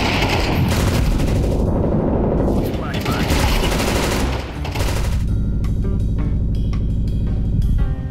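Rapid, heavy gunfire from the priciest weapon in the video game CS2 fills the clip, with loud sustained bursts, a short lull, then more shots over game sound.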